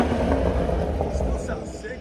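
A 2020 BMW M340i with its 3.0-litre inline-six and Dinan axle-back exhaust rumbles loudly and steadily up close, with a deep continuous drone that eases slightly toward the end.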